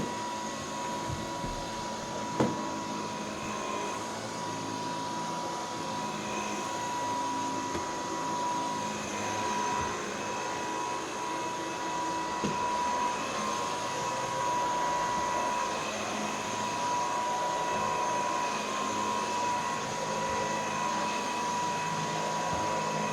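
A vacuum cleaner drones at a steady, loud whine throughout, alone with no talk, broken only by a couple of brief knocks early on.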